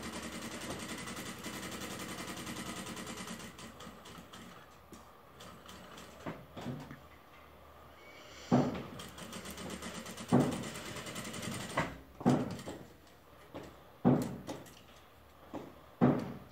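A sewing machine stitching fabric runs in a steady mechanical whir at first, then breaks into short separate bursts with soft clunks between them, close and fairly quiet, with no voices.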